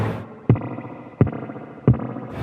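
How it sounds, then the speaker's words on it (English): Three sharp taps on electric guitar pickups, each setting off a drippy, splashy spring reverb tail from a Source Audio True Spring pedal, spaced about every 0.7 seconds, with no talking. "if I just kind of tap on the guitar pickups there, and you can hear that tail"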